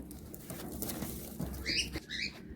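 Pigeons in a loft, High Flying Giribaz and Madrasi birds, with soft rustling and wing flaps, scattered patter, and a few short coos near the end, heard close and fairly faint with no talk.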